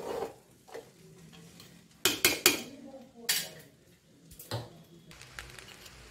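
Vegetable fried rice tossed and stirred in a pan, giving sharp metallic clatters and scrapes in a few close bursts over a low kitchen hum, with quiet gaps between tosses.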